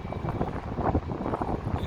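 Strong wind buffets the microphone outdoors on a downtown Chicago street near Trump Tower. It makes a continuous low rumbling roar with gusty fluctuations and no clear voices.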